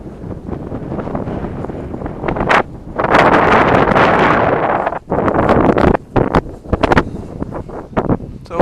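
Heavy wind buffets the microphone outdoors while a Flite Test Bloody Baron RC plane is flown, loud rumbling gusts that surge, drop out and return in choppy bursts.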